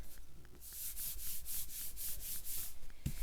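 Card stock is rubbed flat by hand to stick down a glued piece on a Thanksgiving greeting card, heard as a rapid run of soft, rhythmic scraping strokes up close.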